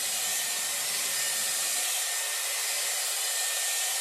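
A Dyson Airwrap with round brush blow-dries long hair in a salon, a loud steady whooshing airflow that fills the whole stretch, its low rumble dropping away partway through as the brush moves toward the ends.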